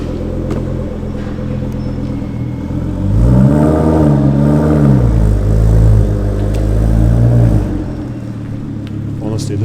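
A car perched on ramps starts and its engine revs, rising to a loud sustained revving drone for several seconds before easing back to idle.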